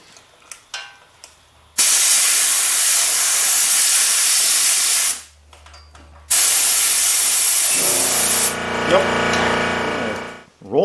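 Compressed air hisses loudly through a rear tire valve stem with the valve core removed for high flow, seating the bead in long bursts broken by short pauses and brief clicks.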